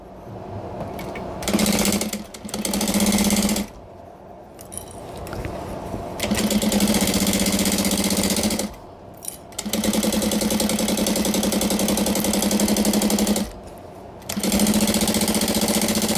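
A sewing machine back-stitches a tote bag in loud mechanical bursts of steady whirring stitching. Several runs start and stop with short pauses between them.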